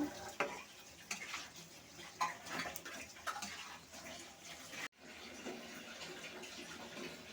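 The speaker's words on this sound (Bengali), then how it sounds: "কাঁচামরিচ, ভালো করে মিশিয়ে নেড়ে নেব।" Bottle gourd and green chilies being stirred in a pan with a spatula, a steady wet scraping and sizzling with repeated soft clatters of utensil on metal, close and moderately quiet, with no voices.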